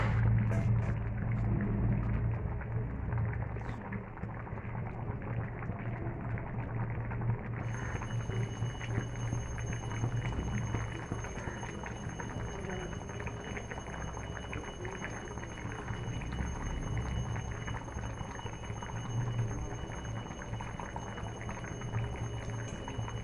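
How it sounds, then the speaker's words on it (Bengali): Potatoes boil in a pot with a continuous low bubbling and churning, steady and fairly faint, with a thin high tone joining partway through and no voices. "আলুটা আর একটু সেদ্ধ হবে।"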